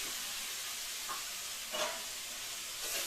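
Pumpkin pieces are stir-fried in a pan with fish and melted tomatoes, a soft continuous sizzle and hiss with a few brief stirring scrapes, quiet and close, no voices.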